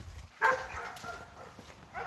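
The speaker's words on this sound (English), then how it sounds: "you're barking at the coyotes" Dogs near a farmyard give a sharp bark at coyotes, followed by softer yips and whines over a quiet outdoor background.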